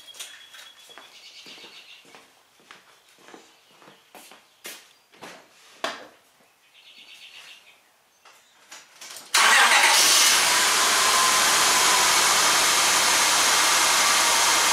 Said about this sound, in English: So let's start it up, and I'll show you guys what the deal is.